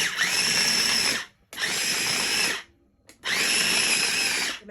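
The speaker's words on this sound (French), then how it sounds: "On va aller hacher les oignons." A food processor runs in three loud, steady bursts of roughly a second and a half each while chopping onions for stuffed squid, with brief silences between pulses and no voices.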